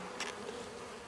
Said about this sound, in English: so we've got some bees there.